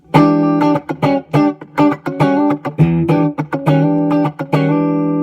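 Choppy, old-school funk electric guitar rhythm played on a different pickup setting, short staccato chord stabs in a bouncy pattern, loud and clean with no talking.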